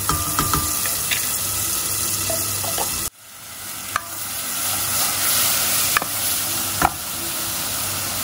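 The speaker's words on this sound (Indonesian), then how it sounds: "kita tumis bumbunya ini yang tadi udah aku halusin ya" Ground spice paste sizzles in a pan for chicken soto Betawi, a steady close frying hiss broken by scraping stirs and a few sharp clicks, with a sudden dip in volume midway.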